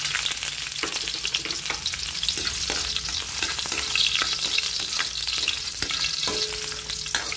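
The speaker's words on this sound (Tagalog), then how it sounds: "Mainit na yung mantika. Ilagay ko na ang bawang." Garlic frying in hot cooking oil in a pan, a steady, dense sizzle with crackling pops and occasional scrapes of stirring throughout, close and loud with no voices.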